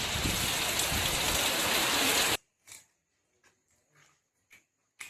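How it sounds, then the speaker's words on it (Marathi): Rain falls outside a Kokan home, a loud, steady wash for about two seconds that cuts off abruptly, leaving faint scattered taps and a short whimper-like sound. "बाहेर आहे पाऊस"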